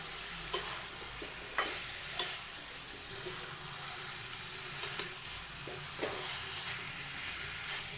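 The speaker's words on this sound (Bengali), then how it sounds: "এভাবে করে কিছুক্ষণ নেড়ে চেড়ে মাংসগুলো আমি ভালো করে আবারও কষিয়ে নিচ্ছি" Chicken pieces being stirred and browned in a pan over raised heat, a soft continuous sizzle broken by occasional spatula scrapes and knocks, close but moderately quiet, no voices.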